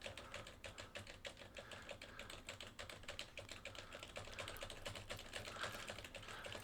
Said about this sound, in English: I certainly hope you can hear how much my fingers are hitting the keys here.